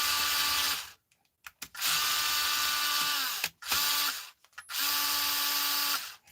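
A powered screwdriver whirs in three sustained bursts of steady buzzing, each cut by short pauses with faint clicks, close and fairly loud with no talk over it.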